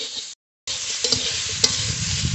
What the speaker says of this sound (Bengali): আলুর সঙ্গে উচ্ছে হালকা করে ভেজে নিয়েছি